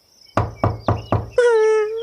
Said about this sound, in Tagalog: Teka, may kumakatok.